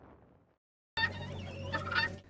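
Backyard hens kept for eggs in Arizona give a short burst of loud, close fowl calls after a faint, quiet lead-in, with no one speaking.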